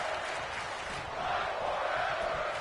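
A large wrestling video game crowd roars and cheers steadily, a dense wash of distant voices with no breaks.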